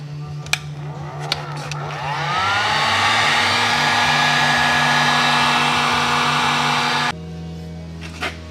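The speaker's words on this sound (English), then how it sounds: "I'm using a heat gun to warm up this nylon so that it'll slide a little bit easier" A heat gun warms a nylon shifter ball on a Nissan Maxima stock shifter, starting with a soft hum, then rising into a loud, steady blowing roar that holds for several seconds before cutting back to a lower whir.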